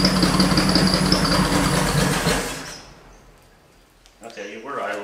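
A burnt, long-abandoned Chevy Nova's engine idles with a loud, rough low rumble for a couple of seconds, then dies away into quiet before a person starts talking.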